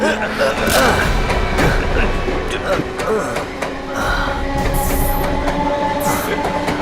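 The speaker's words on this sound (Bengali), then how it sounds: "এক নম্বর প্ল্যাটফর্মে থ্রু ট্রেন আসতে চলেছে" A through train rolls into platform one of a station, its loud rumbling clatter and squealing wheels filling the scene while voices sound faintly beneath.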